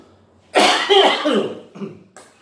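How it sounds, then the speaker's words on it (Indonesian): A burst of harsh coughing, then a couple of shorter coughs trailing off, close to the listener with no talking. "Agak batuk nih, masih belum hilang nih."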